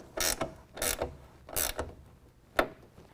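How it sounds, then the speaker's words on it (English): A half-inch ratchet tightens a tonneau cover rail clamp on a 2017 Nissan Titan bed, giving four quick bursts of clicking, three longer runs and a final short snap, close and fairly quiet with no talking. "we're going to go ahead and tighten that down"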